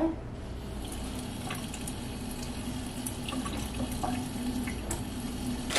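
Tap water runs steadily into a glass in a home kitchen, a continuous close hiss and splash with faint clinks and no speech.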